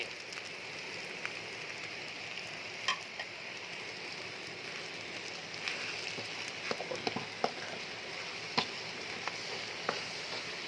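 Chili stir-fried in a hot pan gives a steady, even crackling sizzle like light rain, dotted with sharp little pops and ticks throughout.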